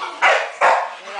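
A dog barks twice in quick succession, loud and close, with a short pause between the two barks.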